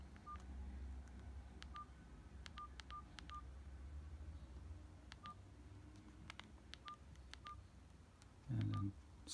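Keypad tones from a Nokia 130 mobile phone as keys are pressed, short separate beeps in irregular bursts, a few fast clusters and single presses, quiet against a low background hum with a brief thump near the end.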